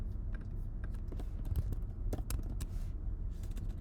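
Typing on a computer keyboard: quiet, close clicking keystrokes in irregular bursts over a low steady background hum, with no speech.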